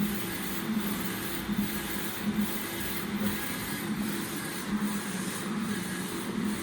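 A printer at work on a print job: a steady mechanical hum with a soft, rhythmic pulse repeating about every second as the print head passes. It is close and constant, with no voices.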